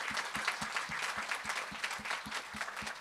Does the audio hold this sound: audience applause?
yes